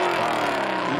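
A drift car in a top-64 drift series round, an E36 among the field, roars at high revs on the race track, a loud, steady engine wail that fills the whole second.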